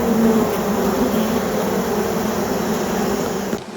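Honey bees buzzing around an opened hive in an Australian bee yard, a dense continuous droning hum close by, steady and loud throughout.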